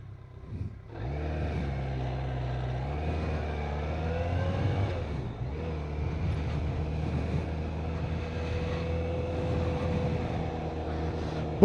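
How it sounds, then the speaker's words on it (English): Engine of a BMW K1200RS motorcycle riding through heavy road traffic, a steady mid-pitched drone with shifting revs running throughout, fairly loud and continuous with no talk. "Bloody hell, traffic's bad round here."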